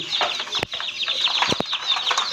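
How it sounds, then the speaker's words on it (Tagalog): Rhode Island Red chicks and chickens peep and cluck in a steady, busy chorus of high chirps close by, with a few sharper calls cutting through. "Red Rhode Island chicken"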